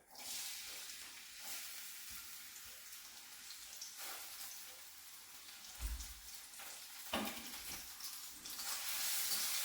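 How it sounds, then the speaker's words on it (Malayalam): Ginger frying in coconut oil for inji curry gives a soft, steady sizzle with faint crackles and a few brief clinks or stirs, quiet and continuous without speech. "അപ്പം അതവിടെ ഇഞ്ചി മൂത്ത് വരട്ടെ"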